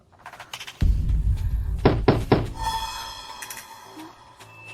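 Two or three dull knocks land on a wooden door, close and fairly loud, preceded by a heavy thump and followed by a soft musical tone fading in the background.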